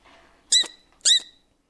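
A person's voice imitating the happy squeaks of a small white pet with a belt-like stripe: two short, high, bright squeaks about half a second apart, close and clear against near silence.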